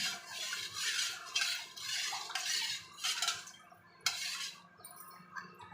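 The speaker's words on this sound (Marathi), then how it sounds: "चांगला हलवून घेऊया." A spoon stirs homemade sherbet in a vessel, with a run of bright metallic clinks and scrapes that come in bursts and then a short pause. The sound is close and there are no voices.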